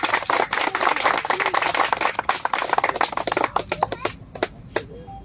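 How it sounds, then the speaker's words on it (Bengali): An audience claps steadily through a stage welcome at a Bengali event, a dense burst of applause that thins into scattered claps toward the end. "একটু জোরে হাততালি হয়ে যাক।"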